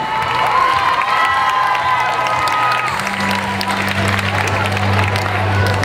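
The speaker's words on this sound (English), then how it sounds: "Give them a big round of applause." Loud crowd at a cheerleading competition cheering and applauding first-place winners, with sustained shouting, children's voices and clapping blended into a continuous roar.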